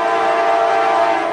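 A southbound CSX freight train rumbles past close by, a loud, steady wash of rail noise with a sustained horn tone riding over it, with no talking.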